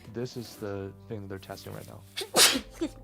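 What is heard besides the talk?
sneeze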